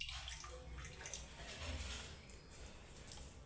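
Water pours and trickles continuously as it is squeezed by hand from grated bottle gourd, a faint, close, steady splashing.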